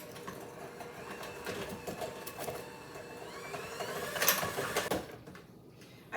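An electric mixer whirs steadily through coconut cake batter, a continuous motor hum with slight rises in pitch, close and moderately loud, ending in a sharp clatter before it cuts off.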